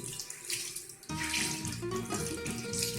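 Tap water runs into a sink to soak makeup sponges and brushes, a steady splashing hiss that turns fuller and louder partway through as the flow or filling pitch changes, close and alone.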